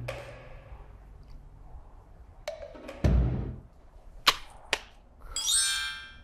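A katana cutting a tameshigiri practice target, with a few sharp, brief whooshing and slicing strokes spaced across a quiet background, one louder impact near the middle and a bright swishing sound near the end.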